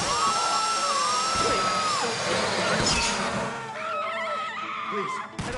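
A drill whines steadily through a bank vault box during the Fleeca Job heist in a Grand Theft Auto-style video game, running loud and continuous with engine-like and mechanical game noise layered around it.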